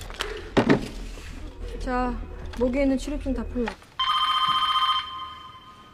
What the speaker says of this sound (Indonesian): tapi tiba-tiba telepon berdering